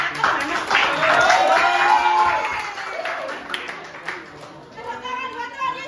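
A Sunday school congregation claps along during worship, scattered hand claps heard under a sung or spoken voice with a melodic line, fading to lighter sparse clapping near the end.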